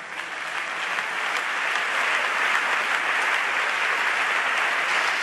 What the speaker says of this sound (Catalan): Ovació